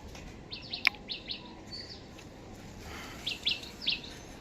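Pigeons in a loft give short, soft high calls, a few scattered bursts in two clusters over a quiet low background hum, fairly faint and without talk.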